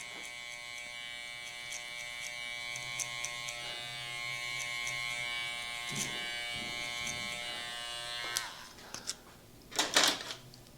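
Electric hair clippers fitted with a 1.5 guard, lever closed, buzz steadily while cutting hair during a burst fade haircut; a close, even electric hum with light clicks and handling noise near the end.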